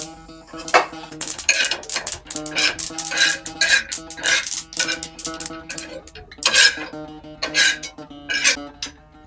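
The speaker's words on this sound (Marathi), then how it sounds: "आता तीळ सुद्धा भाजून घ्यायचं आहे" Sesame seeds roasting in a pan, stirred with a spoon that scrapes and clinks against the metal in rapid, uneven strokes, close and loud with brief pauses between bursts.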